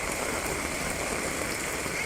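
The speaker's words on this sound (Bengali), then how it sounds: "কি রিমঝিম বৃষ্টি হচ্ছে" Steady, dense wash of heavy rain, constant and close, with no breaks or other sounds standing out.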